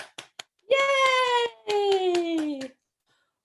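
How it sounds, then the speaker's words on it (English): A few sharp hand claps in a baby signing song session, spaced out at first and then continuing under a high, drawn-out cheering voice. "Give me a clap."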